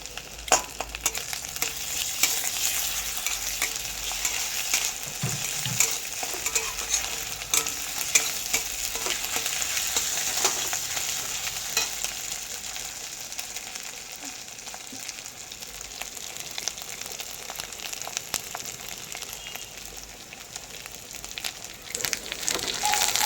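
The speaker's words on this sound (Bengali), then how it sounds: "আদা রসুন খুব ভালো করে ভাজা হয়েছে।" Ginger-garlic paste fries in a pan with a steady, close sizzle that crackles continuously for over twenty seconds, with occasional stirring scrapes and no talk.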